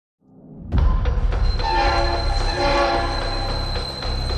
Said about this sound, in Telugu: మన ట్రైన్ అయితే ఘోరంగా క్రాష్ అయిపోయింది